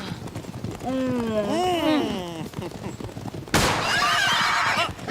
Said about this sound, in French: Mon cheval est hors de contrôle!